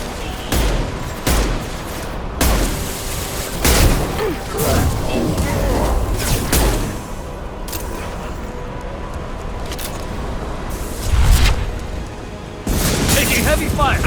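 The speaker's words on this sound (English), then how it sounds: "Taking heavy fire!" Heavy gunfire in the video game Mass Effect 2, with dense bursts of shots and booming impacts running throughout, loud and continuous, while voices talk over the combat.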